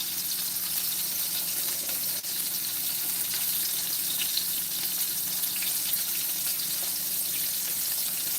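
Veal cutlets fry in oil in a pan with a continuous, fairly faint, even hiss and sizzle, broken by a single brief tap near the middle and no talking.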